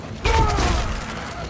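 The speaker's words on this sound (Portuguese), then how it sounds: "Um tiro a queima-roupa." A point-blank gunshot in Warhammer 40000 Space Marine 2 on PS5 hits as a sharp, heavy boom with a trailing ring, close and loud in the game mix.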